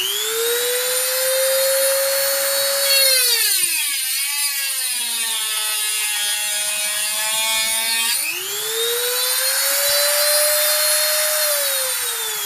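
Knockoff Dremel-style rotary tool running a cutting wheel, a loud close high-pitched whine that dips in pitch twice as the wheel bears down under load and then rises again.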